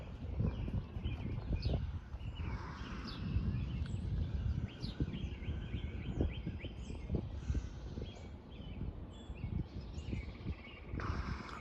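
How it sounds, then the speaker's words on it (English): Scattered bird calls and chirps ring out over a dense outdoor bed of rumbling and rustling before a thunderstorm, fairly faint and continuous with no talk. "Birds are still active"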